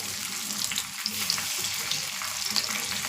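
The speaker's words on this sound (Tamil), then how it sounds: "நான் தோசைக்கல்லில் தாங்க மீன் பொரிப்பேன்" Fish fries in oil on a flat dosa griddle, giving a steady close crackle and sizzle with small irregular pops, continuous and moderately loud with no speech.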